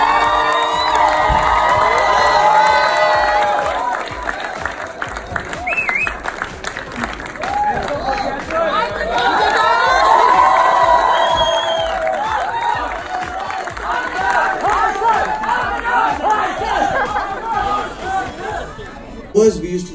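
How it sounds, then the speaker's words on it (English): A film festival crowd cheers, whoops and claps for actor Vicky Kaushal, a loud, dense roar that swells and fades over twenty seconds while several voices talk and shout over it. "A big round of applause for Vicky Kaushal"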